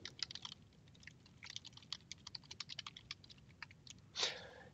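Fingers type on a computer keyboard while signing in to a Microsoft account in Windows 10, a quick, uneven run of close, light clicks, ending in a slightly louder tap or rustle.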